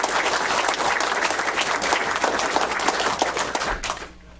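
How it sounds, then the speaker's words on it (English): An audience at a Commodore computer users' anniversary gathering applauds steadily for a full round of clapping, which fades out at the end. "Big round of applause for Stuart Russell"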